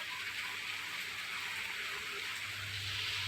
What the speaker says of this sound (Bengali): জোরেই বৃষ্টি পড়ছে বেশ জোরে